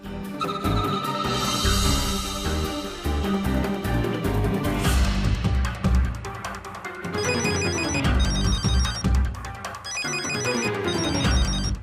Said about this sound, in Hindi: अरे सरवणा का फोन है